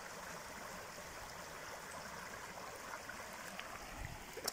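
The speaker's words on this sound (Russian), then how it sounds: "И вот пошла дальше река." A river flowing past in open country, a steady broadband wash of moving water with no talk, constant in level throughout.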